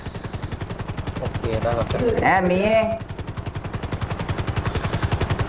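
Rapid automatic gunfire in a GTA roleplay game rattles steadily in a fast, even burst throughout, with a voice speaking briefly over it midway.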